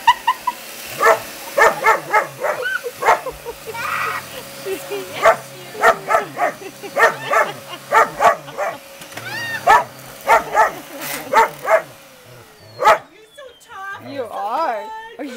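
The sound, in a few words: dog barking at a vacuum cleaner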